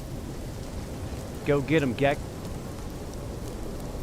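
Steady rain hiss from No Man's Sky fills the background, with a short burst of speech in the middle.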